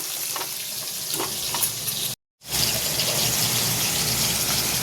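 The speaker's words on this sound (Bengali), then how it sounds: "এই যে ইলিশ মাছের মাথা ভাজা হচ্ছে এই কড়াইয়ে" Hilsa fish heads frying in oil in a wok, a loud continuous sizzle that cuts out for a brief gap midway and then resumes just as strongly, with no one speaking.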